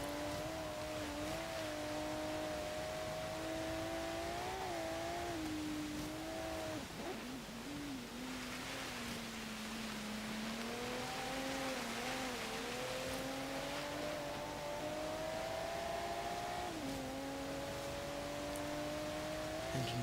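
The engine of a 2015 Volvo V60 Polestar in Forza Horizon 3 drones and revs through a snowy hill climb, its pitch rising and falling repeatedly as gears shift, steady and prominent with no talk.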